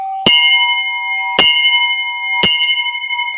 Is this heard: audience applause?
no